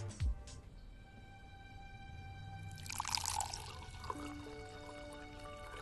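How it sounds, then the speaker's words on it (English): Wine poured into a glass in a film scene, a quiet trickling pour rising in the middle of the stretch over a faint steady background hum, with a soft thump near the start. "there's something inherently funny about this wine pour scene"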